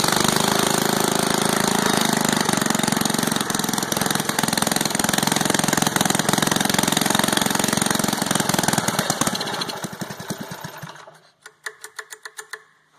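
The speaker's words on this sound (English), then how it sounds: "Can't stop a British flathead running." Villiers Mk 10 flathead engine driving a solids pump, first run after 25 years: a loud, close, rapid ticking putter that runs steadily, then slows and sputters to a stop.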